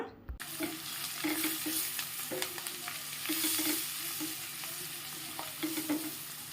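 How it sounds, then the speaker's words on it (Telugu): Turmeric, coriander powder, garam masala and a little chili powder frying in hot oil, with a steady close sizzle broken by repeated scraping stirs of a spoon in the pan; no voices. "సింపుల్ మసాలాగా పసుపు ధనియా పొడి గరం మసాలా కొద్దిగా కారం పొడి అంతటినీ చూడండి ఆయిల్లో వేగేటట్టుగా చూసుకోవాలా"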